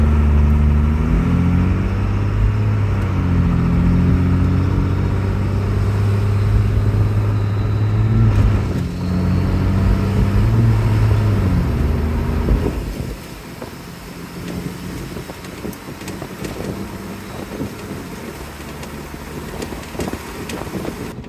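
A second-generation Ram truck with a Cummins diesel and a swapped Allison 6-speed automatic accelerating hard, engine pitch climbing through quick upshifts before settling to a quieter cruise with wind noise and no talk.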